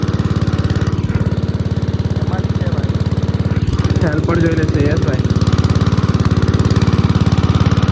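Engine-driven farm pump drawing water through a pipe on a field at night, a steady loud throbbing idle chugging throughout, with a brief spoken exchange over it partway through.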